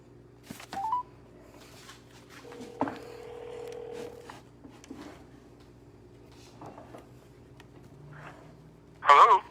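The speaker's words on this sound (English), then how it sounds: "let's get him on the phone now" Telephone keypad tones sound as a call is placed, a few brief beeps spread across the clip with a louder burst near the end, amid quiet handling noises and faint background talk.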